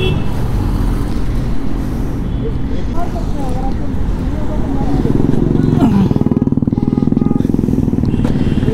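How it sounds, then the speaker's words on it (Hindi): Triumph Tiger Sport 660 motorcycle being ridden, a steady engine drone with road and wind noise throughout, swelling slightly louder near the end while a rider talks over it. "मुझे वैसे स्पोर्ट्स बाइक पसंद नहीं है फिर भी मैं चला रहा हूँ"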